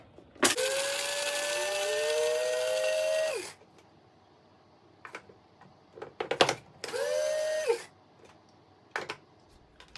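Electric coffee grinder whirring through beans for pour-over coffee: one long whining burst of about three seconds, a short pause with light clatter, then a second briefer burst, close and loud.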